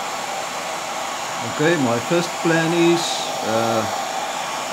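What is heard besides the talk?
old hair dryer heating glitter glue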